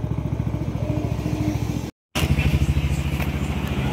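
Yamaha Nmax v2 scooter engine, freshly refreshed, idling steadily up close with a rapid even putter, briefly cut off and then resuming slightly louder.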